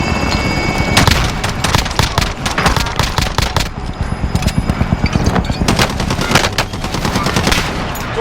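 Dense automatic and rapid gunfire from Call of Duty Warzone (Modern Warfare 2019), loud bursts of shots crackling continuously throughout, close and intense with no pauses.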